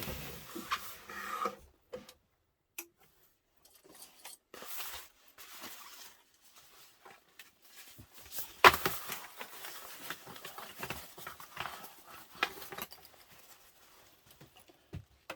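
A sewing machine stitches a seam on a messenger bag in uneven bursts, with rapid mechanical clattering runs broken by short pauses and handling noises, fairly close and without talk.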